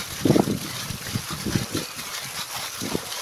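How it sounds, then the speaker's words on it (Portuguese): Water drains from an excavated, lined tilapia pond through an elbow-type drainage pipe, a close, irregular gurgling and splashing that surges in short bursts over a constant watery hiss. "E é assim que é feita a drenagem."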